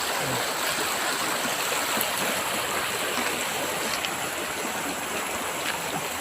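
A large, deep river flowing over big rocks gives a continuous broadband rush of water, steady and close, with no voices over it.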